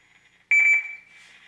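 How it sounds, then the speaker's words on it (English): A Katsuma Meka-Zoku toy robot gives a sharp electronic beep tone after finishing a voice recording, starting abruptly and then trailing off into a softer sustained tone, close and alone. "Indicator lights flash after 6 seconds, 2 beeps and sound, and recording stop."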